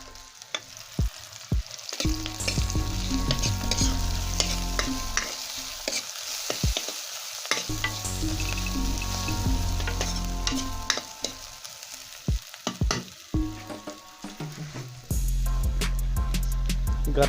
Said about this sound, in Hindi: अब अदरक और लहसुन का पेस्ट डाल देते हैं।